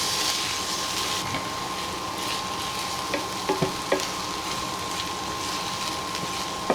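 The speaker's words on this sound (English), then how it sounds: "You need to let the onion sort of cook a bit and go translucent before you actually add the bacon." Onion sizzling and frying in a pan, a steady broadband hiss held throughout with a few small clinks and stirs near the end, close and alone without talk.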